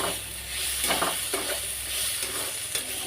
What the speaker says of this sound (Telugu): ఈ విధంగా దోసకాయ ముక్కల్ని, టమాటా ముక్కల్ని, పచ్చిమిర్చిని ఇలా ఈ విధంగా ఫ్రై చేసుకోవాలండి